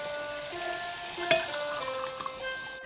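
Minced garlic fries in oil for a Cantonese steamed-lobster dish, a steady close sizzle of crackling bubbles with a brief louder clink partway through, and no voices.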